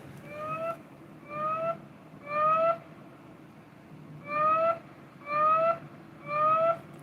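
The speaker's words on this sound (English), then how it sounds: "the Simplex 4003 offers a code 3 whoop" Simplex 4003 fire alarm panel sounding a code 3 whoop tone: six rising electronic sweeps in two groups of three, each sweep about half a second long with a pause between groups, loud and alone over a low hum.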